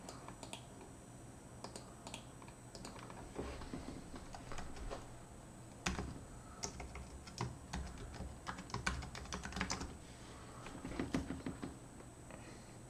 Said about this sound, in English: gotta type in my password correctly